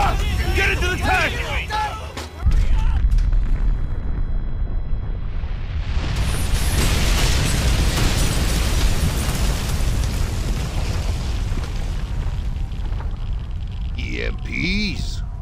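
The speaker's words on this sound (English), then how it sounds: "Incoming! What? Run! What is it? Tactical nukes" Tactical nuke blasts in the war shooter Frontlines: Fuel of War roar loudly through a long, sustained rumbling boom, with excited voices shouting over the start and end of the explosion.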